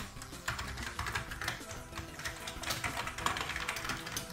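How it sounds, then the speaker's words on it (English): Fingers type on a Commodore Amiga 600 keyboard, a close, steady run of quick plasticky key clicks in uneven bursts, with no talk. "Let's try the keyboard now."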